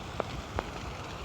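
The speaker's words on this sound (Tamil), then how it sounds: "மக்களே சரியான மழை மக்களே" Heavy rain falls in Saudi Arabia on a flooded road, heard as a faint, steady wash of rainfall with a couple of brief, louder drop impacts and no talking.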